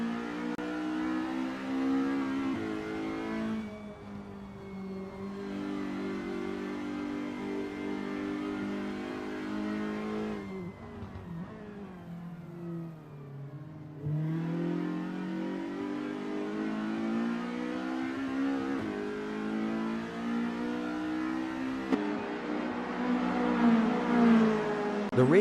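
VW GTI Challenge race cars at full throttle on a circuit, engines howling through repeated gear changes with rising and falling revs, loud and continuous as cars pass close by.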